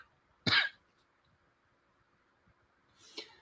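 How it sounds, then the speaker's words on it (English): Two separate coughs from a person fighting a cold, the first a sharp, loud burst close by, the second softer about two and a half seconds later, with near silence between them. "I'm fighting a cold, and so that is the reason for the coughing"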